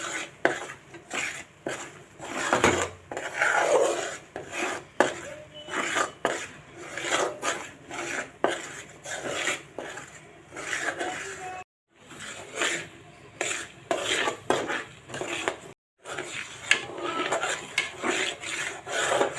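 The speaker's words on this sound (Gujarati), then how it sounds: "તો આ રીતે આપણે સરસ મજાનો લોટ શેકાય છે." Flour roasts in a pan for monthar sweet while a spoon or spatula scrapes and stirs it with steady, rhythmic rubbing strokes at close range, broken by a couple of brief silences.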